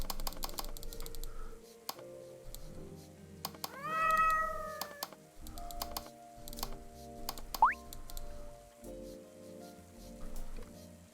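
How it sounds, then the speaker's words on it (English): A cartoon cat meows in the video game Secret Little Haven, giving a rising meow among game music tones and soft key taps, with another short chirp a few seconds later. "I've just added another kitty friend"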